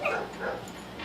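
A dog at a house door gives a few short yips and whimpering barks, close and moderately loud, in quick bursts over about a second with no talking.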